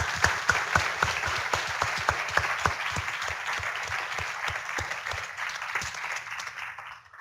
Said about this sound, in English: So a great big applaud to these guys.